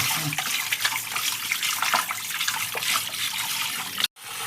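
Running tap water splashes steadily while a cow's feet are washed under it, as offal is cleaned for a Kerala-style boti fry; a continuous close gush with small shifting splashes, briefly cut off near the end.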